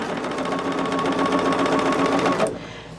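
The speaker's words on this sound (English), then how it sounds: "I'm still sewing." A sewing machine stitching quilt fabric runs in a fast, steady close-up whir with rhythmic needle ticks, then stops abruptly near the end.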